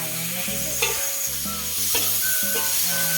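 Chopped tomatoes and curry leaves sizzle loudly in a hot pan while a spoon scrapes and stirs in a steady rhythm, close up and without voices.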